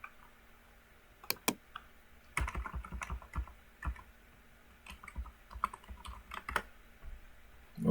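Typing a command on a computer keyboard at a Windows command prompt, with quick clusters of crisp close key clicks and short pauses between bursts.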